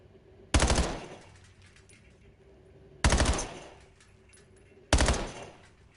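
Three sharp, loud gunshot blasts at the firing range in the Black Ops video game, each a sudden crack followed by a short decaying echo, spaced a couple of seconds apart over a quiet background.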